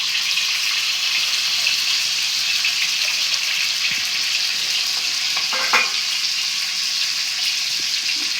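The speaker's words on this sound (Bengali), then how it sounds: "আমাদের লবণ দিয়ে রাখা ডিমটা এবার আমরা তেলের উপর দিয়ে দিব।" Eggs seasoned with salt frying in hot oil for egg korma, a loud, continuous sizzle with a few small clicks of the pan, no talking.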